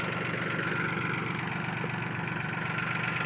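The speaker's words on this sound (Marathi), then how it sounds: "मीडियम फर्स्टवर ट्रॅक्टर चालू आहे पाचशे चाळीस आर पी एम ईवर" A tractor engine running a rotavator in medium first gear at 540 rpm drones steadily at close range, a continuous loud rumble with a rough, even texture and no voices.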